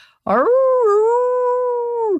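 A single dog's bay starts with a sharp yelp and rises into a long, sustained, tonal howl, close and loud, with no talking.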